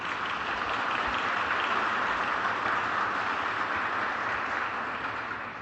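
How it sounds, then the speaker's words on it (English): Steady, even applause from an audience at a real estate industry panel as guests are introduced, a continuous wash of clapping heard somewhat muffled and at a distance. "clap as much as you can for each and every guest"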